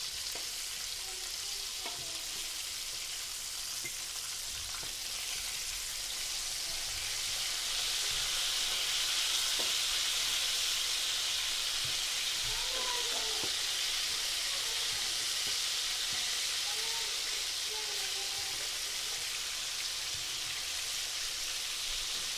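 Meat cutlets frying in a pan, with a steady bright sizzle and crackle that holds throughout and rises slightly midway, plus faint scattered pops and spatters. No one speaks.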